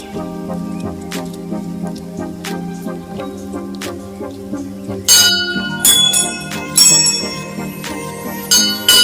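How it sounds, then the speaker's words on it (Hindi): Stone knocks against stone at the Baba Ghanteswar temple, giving bright, bell-like rings, a few spaced strikes at first, then a louder cluster of quick ringing hits. "पत्थर को पत्थर पिटिया घंटीर साउंड शुणिया"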